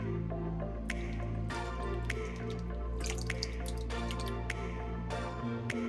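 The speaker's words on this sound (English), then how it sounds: "Then you're going to put in the roasted tomatoes." Roasted tomatoes are poured into a slow cooker in a wet, squishy stream of drips and plops, with several sharper splats landing over a few seconds at close range, and no one talking.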